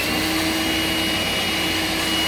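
A Makita 18-volt LXT cordless vacuum with a cyclone separator sucks up sawdust beside a miter saw, its motor a loud, steady, close whine with no voices.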